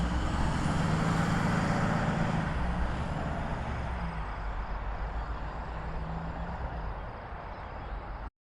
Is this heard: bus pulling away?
yes